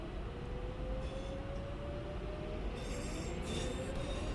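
A Class 323 electric train runs on a main line in Train Sim World 4, with a continuous low rolling rumble, a rising electric motor whine and brief hissing bursts, and no talk.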